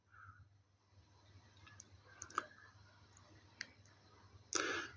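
Computer mouse clicking in a quiet room, a few faint isolated clicks spread across the moment with one sharper click near the end.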